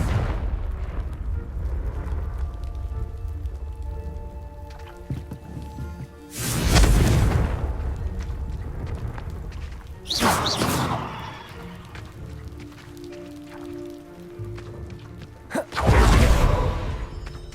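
Three separate booming Confringo spell blasts from the video game Hogwarts Legacy, each a loud broad burst with a brief rumbling tail, spaced a few seconds apart over a low ambient game drone.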